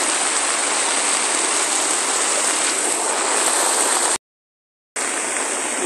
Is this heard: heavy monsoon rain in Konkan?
yes